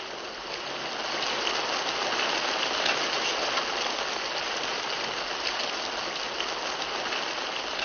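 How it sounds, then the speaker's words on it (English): Steady rain pours down for the whole stretch, a dense, even hiss of drops on surfaces with no breaks and no voices. "It's raining outside."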